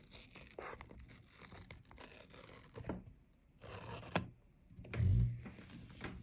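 An iPhone 14 Pro Max box being opened slowly, with soft tearing, rubbing and scraping of cardboard and plastic wrap, and a few louder rasping bursts near the end. Quiet, close and with no talking.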